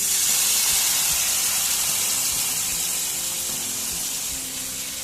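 Water poured into a ghee roast masala paste sets off a loud, steady sizzle and steamy hiss that holds for several seconds and eases slightly toward the end, with no talk.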